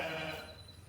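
A single sheep bleats once, a short wavering cry heard close by and fading quickly.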